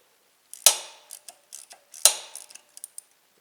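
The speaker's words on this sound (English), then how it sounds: "You just work that on there, takes a standard ratchet, and break that loose." A standard ratchet with a spark plug socket breaks loose the spark plug on a Scag mower: two sharp cracking clicks as the plug gives, followed by scattered lighter ratchet ticks, close and fairly quiet, with no talking.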